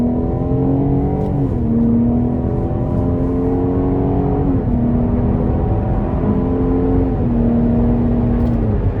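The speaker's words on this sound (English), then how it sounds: "But let's give this thing some gas here." A 2019 Cadillac CT6 Premium Luxury with a V6 accelerating, heard from inside the cabin: a loud, steady engine drone rising in pitch through several gear changes, with brief dips between shifts.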